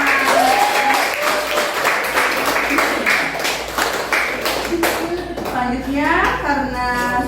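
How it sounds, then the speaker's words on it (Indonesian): A classroom group applauds during a microteaching session after a pro and contra debate presentation, with steady mixed clapping throughout and voices talking over it. "Oke, tepuk tangan untuk kita semua."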